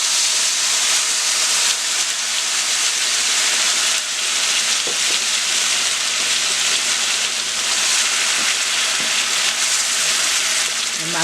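Hot oil left over from frying turkey tails sizzles loudly and steadily in a pan, a constant close-up hiss and crackle with no pauses.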